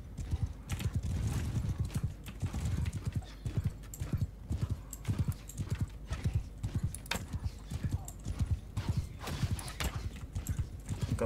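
Horse archers in Mount & Blade Bannerlord gallop in a steady, dense clip-clop of many hooves, with an occasional whinny, under faint talk.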